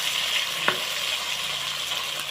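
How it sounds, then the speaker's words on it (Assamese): Meat fries in hot oil while being stirred, giving a steady close sizzle with a brief scrape of the spoon, and no voices. "মাংসটো লৰাই আছোঁ একদম ধুনীয়াকৈ ভাজিব লাগিব খাব লাগিব দেখিছে তেলত পূৰা ভাজি আছোঁ ইয়াক"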